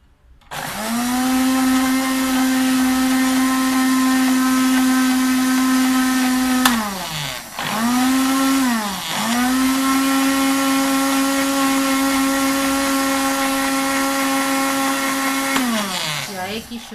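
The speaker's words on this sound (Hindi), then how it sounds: "हम इसको ब्लेंड करेंगे।" A blender whirs loudly while mixing bulletproof coffee, holding a steady high whine that dips briefly twice in the middle and winds down at the end.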